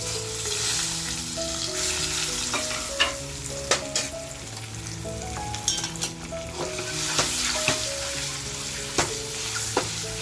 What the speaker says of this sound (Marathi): आता जी आपण अंडी घेतलेत ना ती अंडी आपण हलके ह्याच्यामध्ये फ्राय करून घेऊया